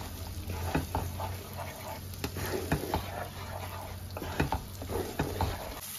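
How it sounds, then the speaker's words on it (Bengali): Ground spice paste for a pomfret fish curry frying in a pan, a soft low sizzle with occasional spoon scrapes, quiet and close, no voices. "এবার মশলাটা আমি ভালো করে কষিয়ে নেব।"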